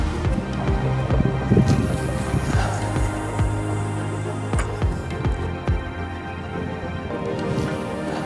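Strong wind roars and buffets across a lake shore, a steady broadband rush with low rumbling gusts throughout, nothing else standing out.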